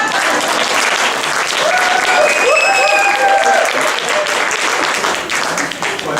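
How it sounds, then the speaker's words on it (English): Conference audience clapping together in a loud, sustained burst of applause close by, with a few voices and cheers mixed in before it tapers off. "Can you clap for us?"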